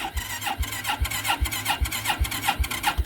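Carbureted ATV engine, a Yamaha Quad Runner on full choke, cranks over on a cold start with a rhythmic, steady chugging of starter strokes repeating evenly, close and loud, without catching.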